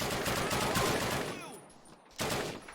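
Gunfire from a Call of Duty battle near Bastogne, dense bursts of shots crackling loudly through the first half, then fading into quieter ambience before another loud burst near the end.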